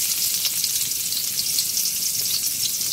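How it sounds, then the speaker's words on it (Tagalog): Onions sizzle steadily in hot cooking oil, a dense, even crackle and hiss that fills the pan for the full stretch without pause, close and fairly loud with no voices. "Ayan, mainit na po si mantika. Ilagay na po natin yung ating onions."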